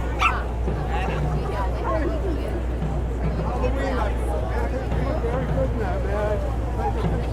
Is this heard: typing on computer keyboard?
no